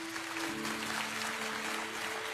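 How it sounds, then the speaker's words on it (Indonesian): A church congregation applauding, a soft continuous wash of clapping heard at a distance over a low steady hum, with no voices on top. "Kasih tepuk tangan untuk Tuhan."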